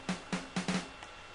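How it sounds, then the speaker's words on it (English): A snare sample triggered in FL Studio sounds a few times on its own, four close, crisp hits followed by a softer fifth, short and dry with clear gaps between them. "I thought it was a snare, so I just use a snare to remake it."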